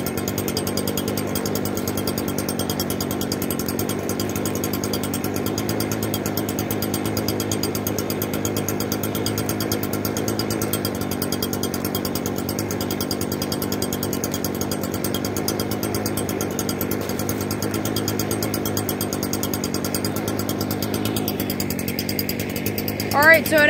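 A forge roars steadily while melting down aluminum foil, a dense continuous burner rumble with a faint rattling texture holding level throughout, a brief clatter at the very end.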